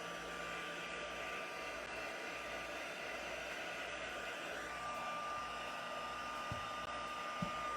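A heat tool blows steadily, warming adhesive so gold foil will stick in a stamping and card-making craft session, a constant near whoosh running the whole time with a couple of faint clicks near the end.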